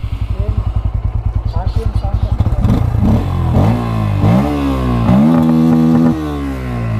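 A crash-damaged Bajaj Pulsar NS160 motorcycle engine idles with a rapid, uneven chugging pulse, then revs up several times into a rough, raspy drone with rising and falling pitch, close and loud, with talk over it.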